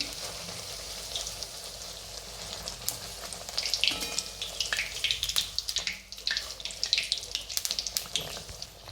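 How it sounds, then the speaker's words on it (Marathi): Puri deep-frying in hot oil for a hotel-style puri bhaji, a steady close sizzle and bubbling that swells and crackles irregularly, with no talking. "बघा मस्त अशी पुरी तळायला लागली आपले."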